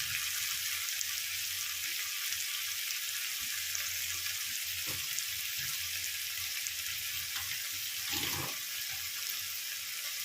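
Garlic paste, ginger paste, slit green chillies and a whole tomato fry steadily in a pan for a Bengali fish-head dal, a continuous bright hiss with a few soft scraping knocks and no voices.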